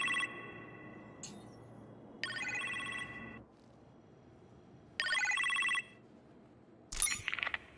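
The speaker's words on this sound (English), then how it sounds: "You appear to have a phone call in the kitchen" A telephone rings in a kitchen during an Iron Man VR game cutscene, three separate bursts of electronic ringing spaced a couple of seconds apart over quiet room tone, ending with a sharper clatter.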